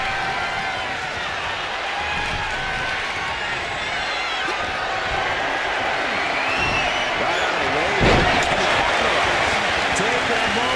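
Arena crowd noise roars continuously through a WWE 2K25 Royal Rumble match, a dense sustained cheer with a brief louder swell and thud near the end, under commentary.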